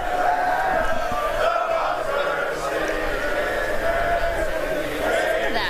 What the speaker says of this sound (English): the teams and the crowd, they all rose up and sang the national anthem together